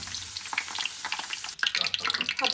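Potato shots frying in hot oil, with a steady crackling sizzle that is briefly interrupted and then returns brighter and louder with sharp pops, as if the pieces are being stirred or lifted out.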